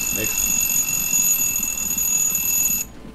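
A timer alarm in a train-building simulation game rings as a steady, loud high-pitched electronic tone for nearly three seconds before cutting off abruptly, with brief talking underneath at the start.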